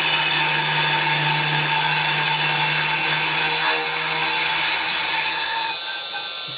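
A milling machine cutting with a 5mm slot drill gives a steady high-pitched whine that runs continuously throughout, loud and close, with a constant tonal hum and no talking.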